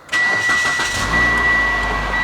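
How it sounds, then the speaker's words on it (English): A car engine cranks and fires up, then settles into a steady, close idle with a constant high whine running over the running engine. "I'm gonna turn on the car"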